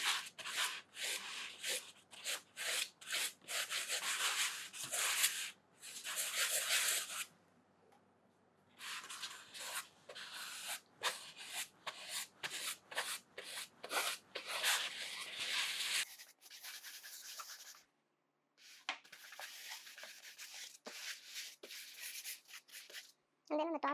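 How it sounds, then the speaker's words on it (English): Hands rub shortening over the surface of a cake dummy, producing a series of soft, close rubbing strokes in irregular bursts with short pauses between them. "Just take a little bit of shortening and then rub it all around."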